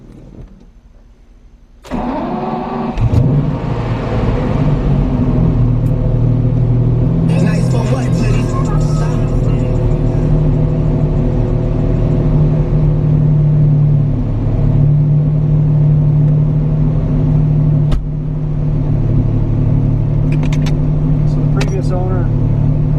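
A Lamborghini Diablo 6.0 engine cranks and fires after a short quiet moment, then settles into a loud, deep, steady idle rumble that carries on close-up for about twenty seconds, dipping slightly near the end.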